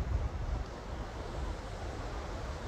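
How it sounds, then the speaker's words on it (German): Steady wind gusting across a hilltop lookout above Maspalomas, Gran Canaria, a continuous low rushing roar with microphone buffeting, heard alone without voices. "Hier weht also schon ein bisschen der Wind."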